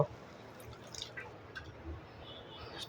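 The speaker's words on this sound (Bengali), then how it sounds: "এই কাঁঠাল কষানোর জন্য পানি দিব" Water goes into a pan of jackfruit curry cooking with chana dal and spices, a faint, close trickle and drip over a low, even background.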